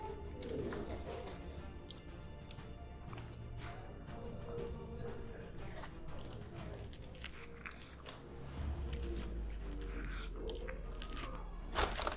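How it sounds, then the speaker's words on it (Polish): Someone bites into and chews an ostrich burger, with repeated close crunching and squishy bite sounds scattered through a noisy room. "Jeszcze dwa gryzy."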